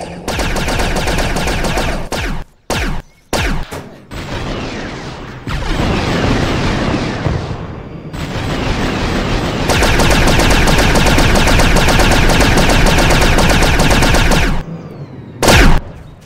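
Rapid-fire gun shooting in the video game Garry's Mod, loud sustained bursts of automatic fire broken by short gaps and single sharp shots, close and harsh, with no talking.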